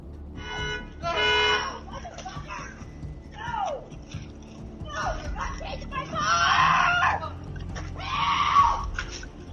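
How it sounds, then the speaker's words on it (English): A woman screams repeatedly in loud, strained bursts, separated by short pauses with muffled background noise. "Nobody showed up to assist the woman despite her screams."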